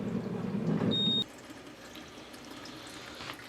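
Water from a hose rushing through a tube extension to rinse film in a darkroom, a steady close stream that cuts off abruptly after about a second, leaving a quieter trickle and dripping, no talk.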